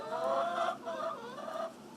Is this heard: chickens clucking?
yes